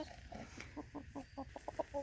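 Roosters clucking in a series of short, close calls in a Western Washington garden, several soft bursts in quick succession with no crowing.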